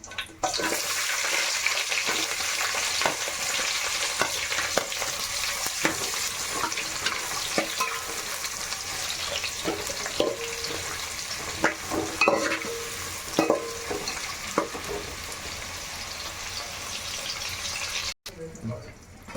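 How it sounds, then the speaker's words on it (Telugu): Onions and green chillies frying in hot tempering oil, a loud steady crackling sizzle with frequent scraping stirs and clinks, close up, ending abruptly near the finish. "ఇప్పుడు తాలింపులో మనం ఆనియన్స్, పచ్చిమిర్చి వేసేద్దాం."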